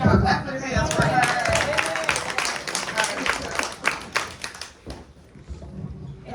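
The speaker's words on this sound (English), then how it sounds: "Y'all clap your hands for her." An audience clapping their hands in a steady burst of applause that thins out toward the end, heard under a speaker's voice.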